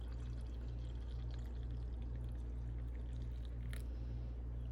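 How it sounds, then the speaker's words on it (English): Coffee poured into a cup in a home kitchen, a steady soft liquid stream running for several seconds over a constant low hum, with no talking. "Let's pour ourselves some coffee."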